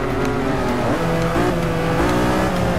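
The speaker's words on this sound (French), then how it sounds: "Allez, fais crisser tes pneus, c'est parti" Race cars roar through corners in Forza 6, engines droning loudly and steadily with tyres squealing as they slide through the turns, with no voices over it.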